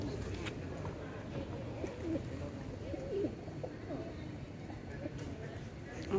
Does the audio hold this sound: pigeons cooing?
yes